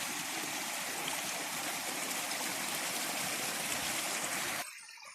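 Stream water pours through a channel into a small pond near a temple pool in Kerala, a dense continuous rushing and gurgling that stays loud and steady before cutting off abruptly near the end.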